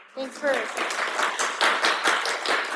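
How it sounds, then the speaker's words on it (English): Audience applause after a university speaker-series talk, a short burst of clapping that rises quickly and continues, with voices speaking over it. "Can you please join me in giving Professor Diaz a round of applause"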